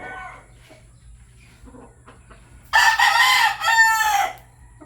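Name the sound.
rooster crowing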